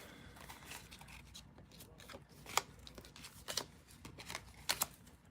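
Tarot deck shuffled by hand, heard as soft scattered riffles and sharp card snaps and taps, a few louder clicks near the end, all faint and close, with no talking.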